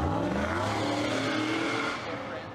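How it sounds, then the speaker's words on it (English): Pickup truck engine revs loudly nearby on a street outside a high school, a strong sustained roar that slowly fades as it moves off. "A pickup truck came back and forth twice, revving its engine, trying to drown him out."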